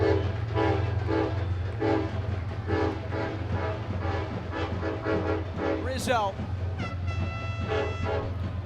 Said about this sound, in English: I hope it's a short train.